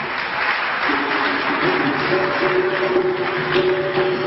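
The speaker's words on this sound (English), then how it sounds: "Give her a round of applause." Audience applause at an evening lecture on Egypt and the Moors in Europe, a steady broadband clapping that runs the full length at even loudness, with a faint tonal hum from the room underneath.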